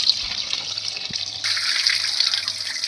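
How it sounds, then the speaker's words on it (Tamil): Soaked cauliflower being washed under steady running water, a continuous close splashing and trickling that brightens partway through. "வாஷ் பண்ணி தண்ணியெல்லாம் வடிகட்டி எடுத்துக்கோங்க."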